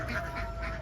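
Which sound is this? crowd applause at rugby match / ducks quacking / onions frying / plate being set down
ducks quacking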